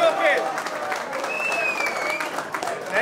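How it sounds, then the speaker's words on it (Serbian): Audience clapping steadily for a contestant announced at a fox-hunt memorial event, dense and sustained for about three seconds, with scattered voices and cheers mixed into the crowd. "Molim vas, jedan aplauz."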